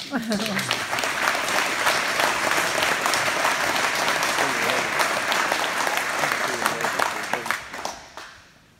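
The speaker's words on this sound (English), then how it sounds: "it's okay to applaud," Sustained applause from a large audience, dense steady clapping lasting several seconds before fading out at the end.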